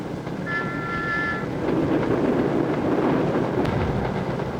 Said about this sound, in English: The famous King-class locomotives pull another Western region flyer, the Bristolian.